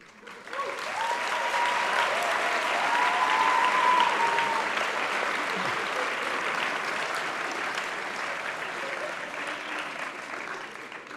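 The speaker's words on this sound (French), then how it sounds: "et je souhaite qu'on les applaudisse." Sustained applause fills a hall at a medical school bachelor's degree ceremony in 2019. The crowd's clapping swells quickly, holds dense and steady for several seconds, then tapers gradually.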